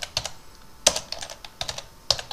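Someone types a short sentence on a computer keyboard. The keystrokes are close and crisp, falling in quick irregular clusters with brief pauses between them, and no one speaks.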